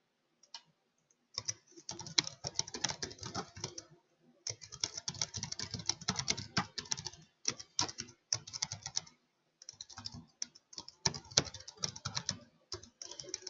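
Bursts of rapid clicking from a computer keyboard being typed on, in several runs separated by short pauses, close and fairly loud during a live trading session.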